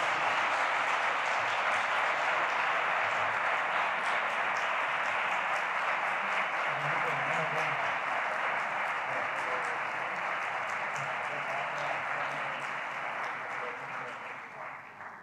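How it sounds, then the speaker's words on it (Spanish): A large audience applauds steadily at a Spanish award ceremony for the SEIO 2023 Ramiro Melendreras prize, a dense, even wash of clapping that fades slightly toward the end. "pueden aplaudir de nuevo"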